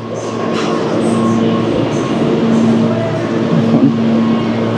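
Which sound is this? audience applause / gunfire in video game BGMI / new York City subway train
new York City subway train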